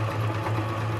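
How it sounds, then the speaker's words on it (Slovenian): A Pfaff Hobby 741 sewing machine stitching fabric, its motor running in a steady close whir with a rapid needle rhythm throughout the short burst. "Ništa ne vučete, nego mašina sama radi, sebi povlači, vraća kako ju treba."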